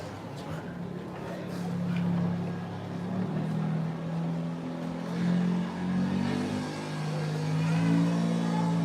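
Race Against the Sun, a desert driving arcade game at Epcot, drones with a steady low engine hum and revving swells throughout, set amid a busy indoor arcade with crowd murmur and voices in the background.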